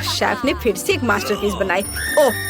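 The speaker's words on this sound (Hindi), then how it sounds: "ये मेरी अलार्म घड़ी है।" An alarm clock rings in a home kitchen during a cooking challenge, a steady high electronic tone that begins near the end under continuous talking.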